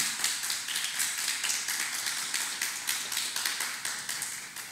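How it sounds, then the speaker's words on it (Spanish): Church congregation applauding for the King during a Spanish-language sermon, a steady run of sharp claps with a regular pulsing rhythm, fairly close and without talk. "un fuerte aplauso al Rey. Vamos, déselo fuerte para el Rey"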